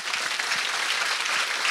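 Dense, loud applause from an audience at a university science-communication final in Lyon, continuous clapping throughout with no voices over it.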